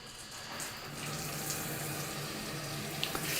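Water streams from a 10-inch high-pressure rainfall shower head combo, a steady close hiss of running water that swells slightly after it is turned on, with a few faint clicks.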